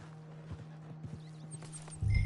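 Hooves of a horse in a video game clip-clop on the ground, a quiet, uneven series of soft thuds over about two seconds, ending in a short louder burst.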